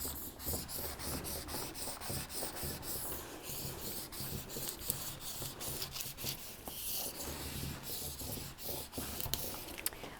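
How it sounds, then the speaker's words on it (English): Continuous scratchy rubbing strokes pass over Cricut vinyl letters, pressing them down with a quick, uneven rhythm; close-up and fairly quiet, with no talking. "This just helps it to stick on even more. Rubbing over all those letters."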